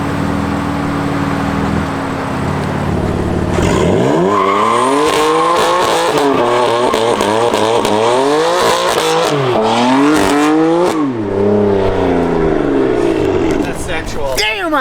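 A BMW M4 drives close by, its engine revving hard in repeated rising and falling sweeps with tire squeal mixed in. The engine is loud and sustained after a quieter idle at the start.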